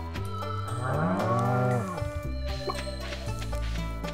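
Cow mooing in the video game Stardew Valley: a long, loud, sustained low moo followed by game chimes and music-like tones, close and clear.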